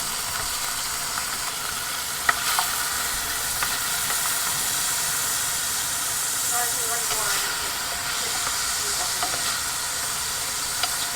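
Shrimp frying in a Hestan Cue pan give off a loud, continuous sizzle and hiss close up, with brief clinks and stirring sounds and faint voices talking underneath.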